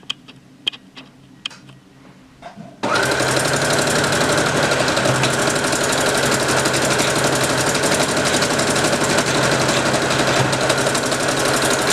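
A sewing machine stitches a buttonhole in dress fabric, its rapid steady whirring and needle clatter starting abruptly after a few quiet clicks and running loud and unbroken to the end.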